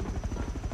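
Steady rhythmic rotor thumping of a helicopter in an online shooter game, a continuous chopping pulse at moderate level with no talk over it.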